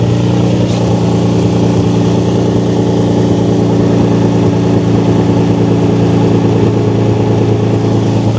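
A Nissan 350Z engine with a Henko Y-pipe idles steadily and loudly nearby, a smooth continuous hum with a low rhythmic throb and no voices.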